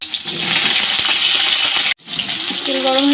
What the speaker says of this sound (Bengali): গরম হয়ে গেছে, দিয়ে দিয়েছি পটলগুলো একটু ভেজে নেব